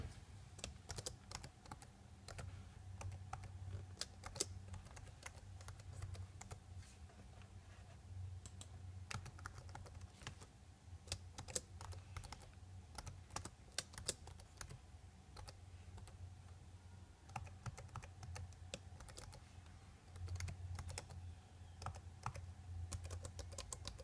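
Steady keyboard typing, a long run of quick clicking keystrokes with brief pauses, close up over a low background hum.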